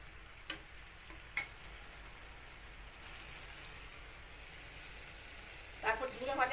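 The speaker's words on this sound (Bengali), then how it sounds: "ভালো করে মশলাটা কষানো হইব।" A spice paste fries in a pan with a faint continuous sizzle, broken by a couple of sharp ticks early on and a burst of louder spattering crackle near the end.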